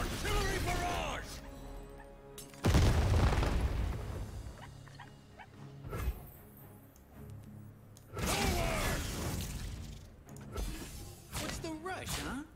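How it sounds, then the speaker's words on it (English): Artillery barrage in Legends of Runeterra, a few heavy crashing booms and shattering impacts in separate bursts, interleaved with game effects and a speaking voice. "Artillery barrage!"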